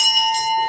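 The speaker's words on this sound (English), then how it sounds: "I wanted to ring the bell" A single bell is struck once during a panel discussion on Canada-US regulation, giving a short, bright metallic ring that sustains evenly for under a second with no voices over it.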